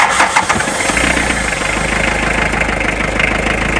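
A Toyota Noah CR42 diesel engine cranks briefly and catches, then settles into a steady, close, loud rumble with no one talking.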